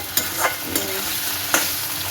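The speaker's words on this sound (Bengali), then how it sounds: "এবার আমি ফুলকপি আলুটার সাথে ধনে জিরে বাটাটা একটু মিশিয়ে নিচ্ছি।" Continuous loud sizzle of cauliflower and potatoes frying in oil with ground coriander-cumin paste and bay leaf, with a few soft scraping stirs breaking through.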